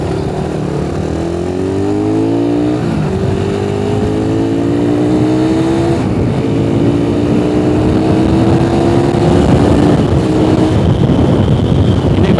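A Suzuki Satria FU motorcycle with stock carburetor and stock engine accelerates hard through several gears, its rising engine whine climbing, dropping briefly at each shift, then climbing again, loud and close with wind buffeting the microphone.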